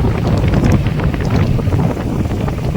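Outdoor wind gusting on a sunny day near a temple, a loud, continuous buffeting roar across the microphone with no voices.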